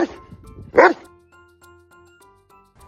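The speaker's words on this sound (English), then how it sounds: "Dog." A dog barks loudly in two short bursts, a brief yip followed by a stronger bark, then quieter whimpering tones and a faint bark at the end.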